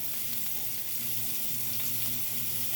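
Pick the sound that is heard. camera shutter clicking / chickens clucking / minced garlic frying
minced garlic frying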